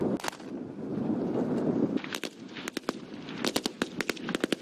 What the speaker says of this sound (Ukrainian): свої навчання десантники розпочинають з псевдострілянини